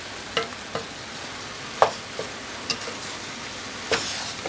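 Roughly chopped garlic cloves and spices fry in a pan under a low, even sizzle, punctuated by several sharp spoon scrapes and taps against the pan at irregular intervals, close by and without speech.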